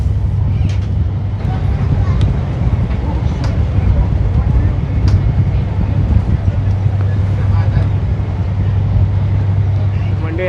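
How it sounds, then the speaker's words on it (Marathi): A speedboat engine drones on coastal water, a low steady rumble with strong wind noise, while a person talks over it. "ती बघा तिकडून स्पीड बोट येते"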